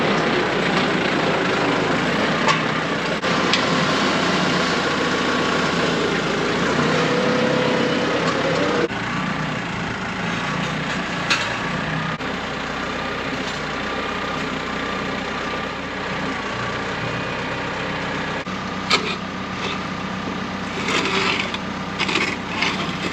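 Tractor engine running steadily while a 3-point hitch lifts a squeeze chute, a low continuous drone with some knocks and clunks, staying even throughout.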